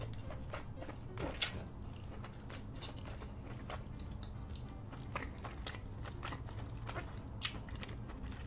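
Close, quiet biting and crunching while eating a king crab seafood boil with cheesy sauce, with faint cracks and wet chewing over low background noise.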